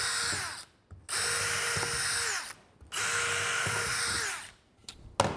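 A power drill bores screw holes into sawhorse boards in two long, loud, steady whining runs, each broken by a brief pause, with a short final burst.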